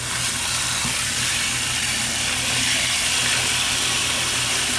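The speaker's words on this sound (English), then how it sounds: "Now we're just going to add water." Water pours steadily into a bucket for a homemade compost tea mix for flowering plants, a continuous loud rushing splash and hiss that stays unbroken from start to finish, with no voices.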